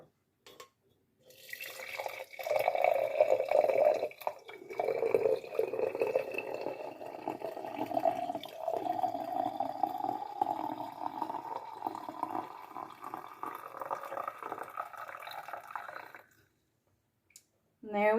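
Herbal tea pours through a fine mesh strainer into a cup, a steady liquid stream splashing and gurgling for about fifteen seconds with a rising pitch as the cup fills, then stops.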